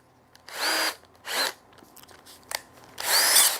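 A power drill stirring a small batch whirs in three short bursts separated by pauses, close and fairly loud, the last burst longest.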